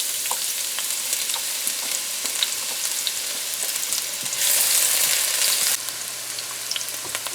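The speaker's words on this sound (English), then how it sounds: "So our oil is hot, my friends, and we're going to add half of our onions that we chopped." Chopped onions hit hot oil in a pan and sizzle loudly, a steady hiss that flares brighter for a second or so midway before settling back to a constant fry, close up with no talking.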